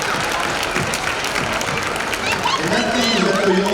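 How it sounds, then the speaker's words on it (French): Audience applause at the Dis-moi tes mots award ceremony, a dense, continuous round of clapping from a crowd, with a voice starting to speak over it near the end. "On peut vraiment les applaudir."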